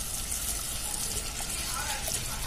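Tamarind water dissolved from a lemon-sized lump of tamarind pours in a steady gushing splash into a fish curry in a home kitchen, loud and continuous throughout.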